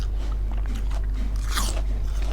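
Crisp crunching bites and chewing of a sweet, crunchy dessert, close and fairly quiet over a low steady hum.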